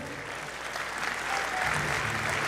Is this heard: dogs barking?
no